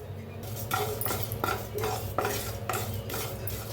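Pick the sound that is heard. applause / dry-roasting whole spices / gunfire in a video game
dry-roasting whole spices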